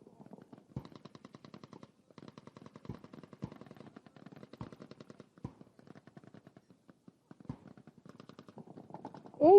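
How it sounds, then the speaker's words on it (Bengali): Heavy fire from artillery, mortars and guns during a Bangladesh Army exercise, heard as fairly distant, rapid bursts of shots punctuated by several sharper, heavier reports, with a louder burst at the very end. "এই মুহূর্তে আপনারা দেখতে পাচ্ছেন আর্টিলারি, মর্টার এবং ফায়ারবেস থেকে শত্রু অবস্থানের উপর বিপুল হারে গোলাবর্ষণ হচ্ছে"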